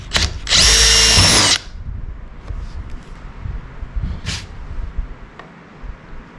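A power drill bores a hole into a kayak hull, one loud close whine lasting about a second, followed by quieter handling noises and a brief second burst.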